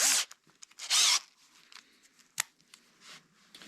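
A drill spinning a chucked engine valve from a John Deere 1010 engine rebuild, short bursts of whirring and scraping with pauses, close and fairly loud, then softer rubbing and clicks.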